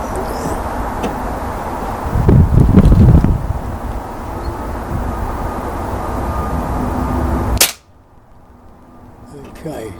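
A single sharp gunshot cracks out near the end of a stretch of steady wind buffeting the microphone, followed by a sudden quiet.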